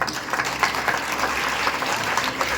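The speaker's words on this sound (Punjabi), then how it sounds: "ਤਾੜੀਆਂ ਮਾਰਦੇ ਹੋ" An audience at a Punjab school event claps together, dense steady applause filling the whole short stretch.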